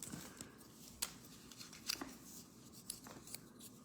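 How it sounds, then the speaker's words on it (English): Scissors snip through a paper flower petal in a few quiet, separate cuts with soft paper rustling between them, close and faint. "An easy way to cut your petal."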